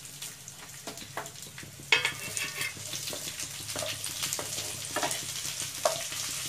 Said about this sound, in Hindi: अब इसमें प्याज डाल रही हूँ, फ्लेम को हाई ही रखना है।